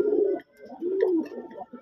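A Deshi Raj Golla pigeon coos in low, throaty rolling phrases, two or three close calls in quick succession, with no other sound around them.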